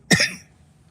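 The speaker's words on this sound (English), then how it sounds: "There go your cough." A single sharp cough, close and loud, fades quickly into near silence.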